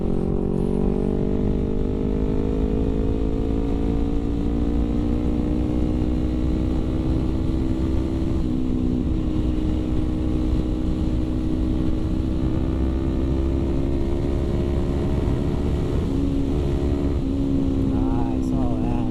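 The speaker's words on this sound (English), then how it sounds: "I love the way this bike sounds." A Kawasaki Ninja 250R engine runs steadily throughout, its pitch rising and falling slightly as it revs, loud and close with no pauses.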